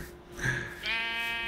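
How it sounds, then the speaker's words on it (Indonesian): Sheep bleats in the Minecraft video game: a short wavering call, then a second, longer and louder bleat, both close and clear over a faint steady game background. "Sini ada domba, mari kita cukur."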